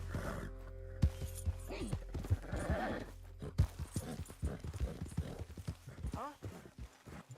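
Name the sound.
horse hooves and whinnying in the video game Red Dead Redemption 2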